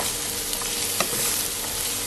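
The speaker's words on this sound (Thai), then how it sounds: "แล้วก็ผัดนะครับ" Carrots and Chinese kale stir-fry in hot oil with a steady, close sizzle and a spatula knocking and scraping the pan a couple of times, no voices.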